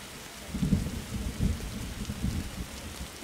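Steady rain hisses with low rumbling thunder rolling in soft pulses in the video game 99 Nights in the Forest, faint and continuous with no voices.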